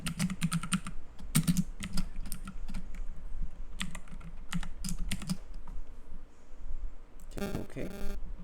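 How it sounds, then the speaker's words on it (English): Rapid typing on a computer keyboard, with bursts of clicky keystrokes close by, some pauses, and a quick flurry near the end. "So in the path, type in the following."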